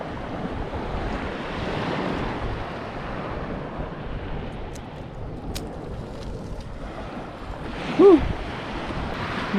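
Sea waves and wind on open water during a boat fishing trip, a steady broadband wash of surf and wind noise with the sea settling, broken by a brief louder bump near the end.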